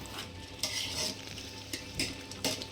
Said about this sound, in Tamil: நம்ம வந்து பரட்டி விட்றப்ப நல்லா மெதுவாக பரட்டணும், வேகமாக அப்படியே பரட்டிங்கன்னா அரிசி உடையும்.